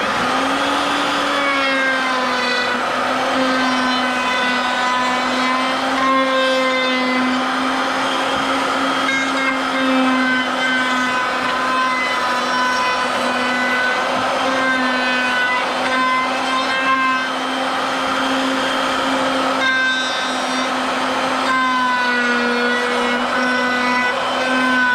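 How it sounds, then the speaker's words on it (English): A router rounds the edges of wooden lap desk legs, its motor holding a loud, steady high whine for the whole stretch while the cutter bites with slight shifts in pitch as it follows the irregular shape. "we need to router them on both sides"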